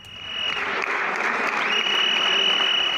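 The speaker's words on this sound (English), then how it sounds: "The sound of whistles, sirens and clapping in the Hungarian parliament on the 12th of December" Inside the Hungarian parliament, a loud piercing siren-like whistle tone holds steady over a dense bed of crowd clapping and commotion, swelling slightly across the few seconds.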